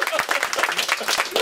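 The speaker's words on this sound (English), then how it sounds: "Let's clap it up for Mott." A small group clapping for Mott at a wine tasting, quick close-up claps with voices mixed in.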